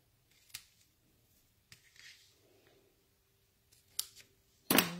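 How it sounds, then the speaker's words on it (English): Scissors snip the ends of a ribbon on a handmade card, a few quick crisp cuts spaced apart, close and fairly quiet, ending in a brief louder burst of handling noise. "And then we'll just trim the ends slightly."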